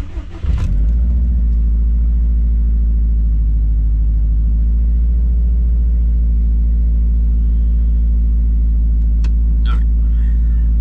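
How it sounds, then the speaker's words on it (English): A Subaru STI with a homemade fuel pressure regulator kit cranks briefly, then settles into a steady, loud, even idle with a deep low rumble that holds constant throughout, no voices over it. "So let me start the car."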